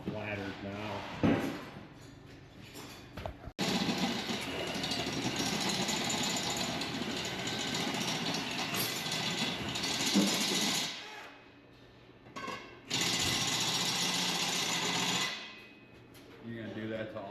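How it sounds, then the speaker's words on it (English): A power drill runs in long, loud bursts close by while boring hole after hole, whining steadily for several seconds, stopping briefly, and then starting up again. "Yeah, gotta drill all of them."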